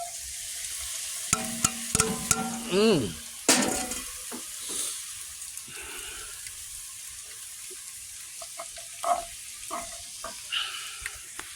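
Creole mirepoix vegetables hit a hot pot outdoors and sizzle steadily, with a bright hissing fry throughout and a few louder clanks and stirring scrapes near the start.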